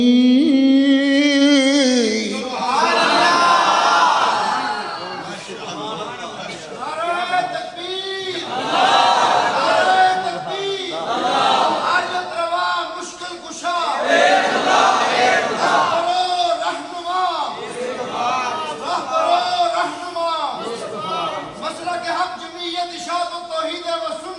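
A large crowd at a religious conference in Gujranwala chants slogans in loud, repeated call-and-response bursts, the massed voices rising and falling in waves for a long stretch.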